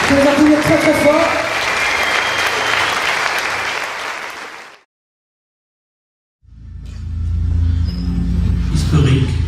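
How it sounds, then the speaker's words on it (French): Loud sustained applause from an audience at a Pombo martial arts demonstration in Estavayer, dense clapping under some voices, fading out to silence before another loud burst of clapping and crowd noise returns. "On peut les applaudir très très fort."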